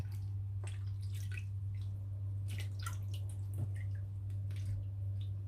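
Water dripping and splashing as freshly picked wild mushrooms are washed by hand, scattered wet drips and squishes over a steady low hum, with no talking.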